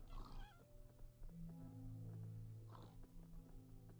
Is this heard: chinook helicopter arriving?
no